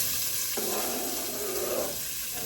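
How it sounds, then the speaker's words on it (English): Chopped onion, one very large one, sautéing in a hot pan before short ribs, a continuous close sizzle that swells briefly in the middle, with no talk. "I'm going to saute my onions in there."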